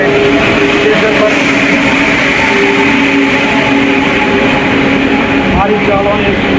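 A train standing at a railway platform in India, its engine and air systems giving a loud, steady hum and drone with some faint station background noise throughout.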